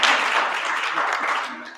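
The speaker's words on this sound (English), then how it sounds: "I need a round of applause." An audience at an awards conference breaks into a short burst of applause. The clapping is dense and fairly loud, lasting under two seconds.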